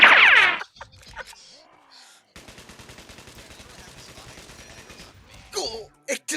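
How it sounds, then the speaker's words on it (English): Rapid automatic gunfire in the video game Garry's Mod: a steady rattle of evenly spaced shots lasting about three seconds, with excited voices shouting just before and after. "Everybody shoot at it."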